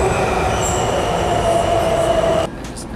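A train rumbles steadily on the rails with a high metallic wheel squeal threaded through it, loud and close, then the noise drops off abruptly near the end.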